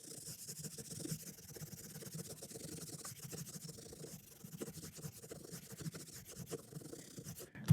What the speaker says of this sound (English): This is just 5 or 6 polishing pads that I run through, and they're basically just the same thing as sandpaper.